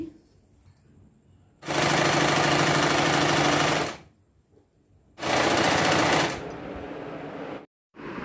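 Sewing machine stitching piping onto a girl's jacket, running in two loud, steady bursts of rapid needle clatter separated by a quiet pause, with softer fabric handling between runs.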